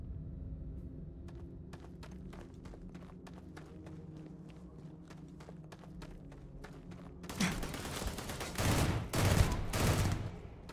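Rifle gunfire in the video game Starfield: a steady run of sharp single shots over a low game rumble, then a denser, louder burst of firing and impacts near the end.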